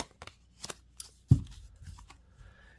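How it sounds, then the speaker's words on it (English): Oracle cards being shuffled and split by hand, giving soft, scattered papery flicks and riffles with one louder snap partway through, close and quiet, with no talking. "I shuffle, and then I split the deck, and I don't look at it."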